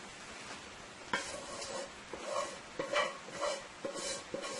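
Seasoned chicken and beef sizzle in a hot pan for fried rice, with a few stirring scrapes and clinks of a utensil against the pan, steady and close.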